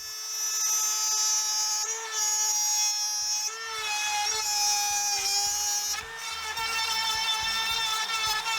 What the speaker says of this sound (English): I finished routing out the slot